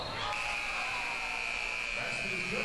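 A loud, sustained electronic end-of-quarter buzzer at a basketball game holds steady for a couple of seconds over the noisy roar of an indoor crowd.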